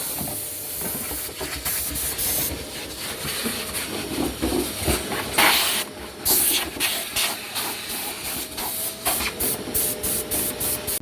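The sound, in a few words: compressed air blowing out dust from hybrid battery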